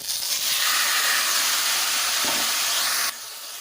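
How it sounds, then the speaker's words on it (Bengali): Kneaded masoor lentils dropped into hot oil with fried tempering spices, giving a loud, steady sizzle that holds for about three seconds and then drops to a quieter hiss. "এবারে দিয়ে দেবো মেখে রাখা ডালগুলো"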